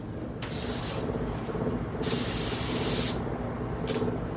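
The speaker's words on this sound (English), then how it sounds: "I'm just gonna go ahead and spray this real quick" A spray can hisses in three bursts, a short one, a longer steady one, then a brief final puff, while wood is being chemically stained on downdraft paper. The spray is close and loud over a quiet background.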